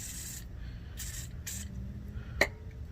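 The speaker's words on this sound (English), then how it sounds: "spraying everything with some penetrating oil" Short bursts of an aerosol can of penetrating oil hiss three times with pauses between, close by and fairly quiet, followed by a faint metallic tap, while working on a pickup's shock bolts.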